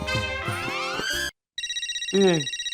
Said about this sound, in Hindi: फोन आ रहा है, क्या बोलूं?